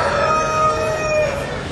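Show chickens crowing, a close, loud, drawn-out cock-a-doodle-doo with clear tonal calls over a farmyard background.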